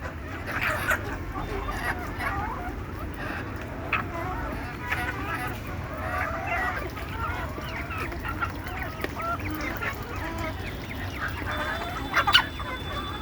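Desi hens cluck and chatter in a busy flock, with overlapping calls and squawks over a steady murmur of farmyard background noise and one sharper outburst near the end.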